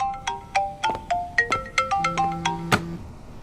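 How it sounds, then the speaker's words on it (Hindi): A phone ringtone for an incoming call in a Chinese drama plays a bright, repeating electronic melody of quick plucked notes with a few held tones, clear and fairly loud with no talk. "शैन जुनहो का फोन मत उठाओ।"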